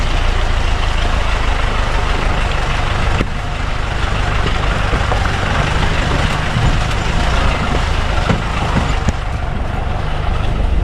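Cement delivery truck turning and reversing through rain-soaked mud at a house construction site: a loud, steady heavy diesel drone with continuous rumble throughout, close by and dominating.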